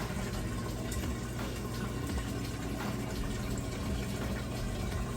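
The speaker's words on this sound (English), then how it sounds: "You can hear it draining water out nice and fast there" A Whirlpool washing machine drains water quickly during the switch to its rinse cycle, a steady gushing and pumping wash of liquid with faint splashes, continuous and fairly close.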